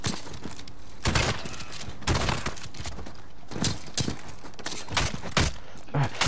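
Call of Duty combat gunfire: heavy, sharp bursts erupt roughly once a second, loud and close, with impacts and battle clutter between shots and no speech.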